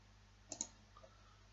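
A right mouse button click in TopSolid 7 CAD software: two quick, faint clicks close together against a quiet background hum, with nothing else going on.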